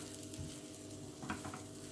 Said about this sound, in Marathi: खसखस छान पैकी मिसळून घ्यायची आहे आपल्याला याच्यामध्ये